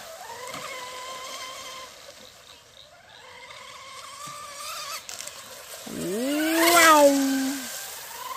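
An RC Shrimp outrigger boat's electric motor runs at half throttle, whining in a rising and falling tone as it passes by, growing louder and sweeping sharply in pitch near the end.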